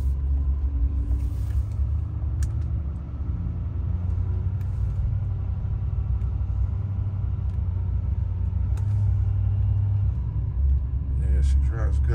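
A deep, steady engine rumble of a Duramax diesel pickup truck with an Allison transmission driving fills the clip, loud and continuous with low droning tones and occasional faint knocks.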